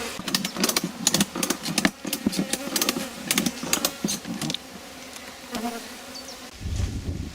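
Honey bees buzz busily around hives in a beekeeping yard, a dense, steady drone of many insects close by with shifting intensity, no talking over it.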